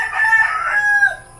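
A rooster gives a single loud, close crow lasting just over a second, with no talking around it.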